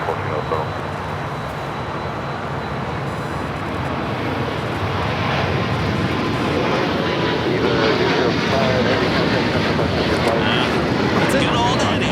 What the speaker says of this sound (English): If you're hearing a 767, you are right